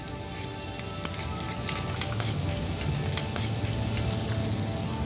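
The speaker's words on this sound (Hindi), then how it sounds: "अब हम इसमें थोड़ा बटर डालेंगे, और बटर के तुरंत बाद चॉप्ड प्याज" Chopped onion sizzling in butter in a pan, a steady, close frying hiss with faint spoon or utensil clinks scattered over it and no voices.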